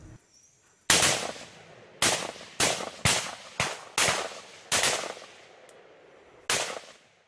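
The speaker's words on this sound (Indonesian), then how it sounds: "Polisi terus menembaki sebuah rumah kayu yang ada di tengah gunung tersebut." Police gunshots ring out at a wooden house in the mountains, seven loud sharp cracks at irregular intervals, each echoing briefly before fading into quiet.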